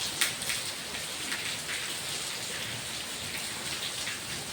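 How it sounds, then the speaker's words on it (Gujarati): Heavy monsoon rain pours down steadily and close, a dense even hiss with scattered droplet taps and no voices. "હજે તો ચાલુ છે વરસાદ"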